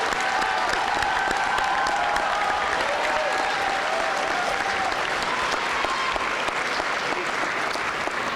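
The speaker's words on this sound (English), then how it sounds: "Let's have one more round of applause for all of our graduates this evening." A graduation ceremony audience applauds the graduates in a steady, dense wash of many hands clapping, sustained at an even level throughout, with faint crowd murmur underneath.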